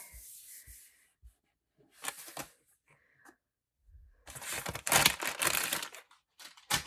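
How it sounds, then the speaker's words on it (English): Baby wipe rubbed over planner paper in quick scrubbing bursts, close and crisp, with short pauses between strokes and a long, vigorous wipe near the end. "since I have a kid, I always use baby wipes, but they're great to have on hand even if you don't, because it cleans things right up"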